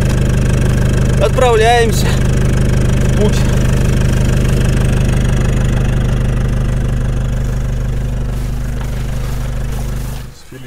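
A car engine idles while warming up, a steady close low hum running throughout, with someone speaking briefly over it and a clunk near the end.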